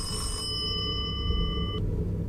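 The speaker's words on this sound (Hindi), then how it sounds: "फोन कौन कर रहा है भाई, तार तो कनेक्ट ही नहीं है।" A telephone rings in the Indian horror video game Kamla, a steady electronic ring over a low rumbling background that cuts off abruptly partway through.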